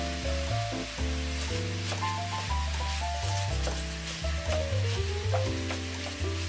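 A filling seasoned with turmeric and paprika sizzles in a pan, a steady hiss of frying running throughout beneath a background of tonal music.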